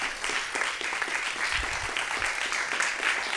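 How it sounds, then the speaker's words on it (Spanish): Steady, dense applause from the audience at the BID-FEMSA innovation awards ceremony, a continuous wash of many hands clapping at even loudness without pause. "Un súper aplauso, muchísimas gracias."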